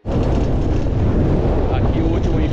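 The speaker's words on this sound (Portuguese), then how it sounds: "Tá ventando muito, muito mesmo." Strong wind at a high lookout roars and buffets the microphone, a loud constant rumbling rush filling the whole stretch with no pause.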